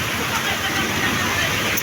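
Heavy rain pours down on a road during a bicycle ride, making a loud, steady, broadband hiss that continues without a break.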